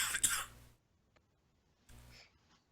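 A short, raspy throat-clearing cough from a race commentator, then a quiet pause and a second softer throat sound.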